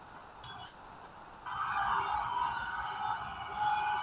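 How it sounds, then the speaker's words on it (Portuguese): Ambulance siren sounding just beside a house, a steady wailing tone that swells noticeably louder halfway through and stays strong, close by. "Pô, parou uma ambulância bem aqui do lado de casa."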